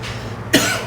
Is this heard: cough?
yes